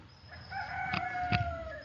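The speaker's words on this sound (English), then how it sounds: "All I'm hearing is my neighbor rooster." A neighbouring rooster crows in the backcountry after heavy rain, one drawn-out cock-a-doodle-doo heard at a moderate distance over quiet rural background, with no talking.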